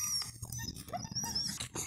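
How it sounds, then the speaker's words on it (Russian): Husky dogs whimpering and whining beside a campfire where pork belly is being grilled, soft high whines and short yips at close range, fairly quiet, with no talk. "Собачки на нас обижаются"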